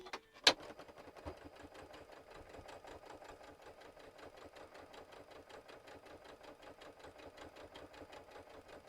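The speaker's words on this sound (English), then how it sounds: "I'm just going to sew this one." A sewing machine stitches quilt pieces for a gnome Christmas table topper, running as a fast, steady, even chatter at a fairly quiet level after a single sharp click at the start.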